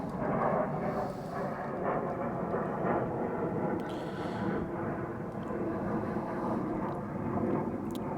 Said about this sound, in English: It's a plane flying over.